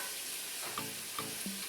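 Shell-on shrimp stirred into a very spicy curry in a pan, a steady sizzle with a few soft scraping strokes of the spoon close by, with no talking.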